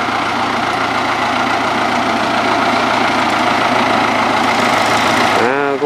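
An old Kubota M4000 tractor, a Fiat-built machine from 1984, idles up close with a steady, loud diesel rumble that runs unbroken before cutting out abruptly at the very end.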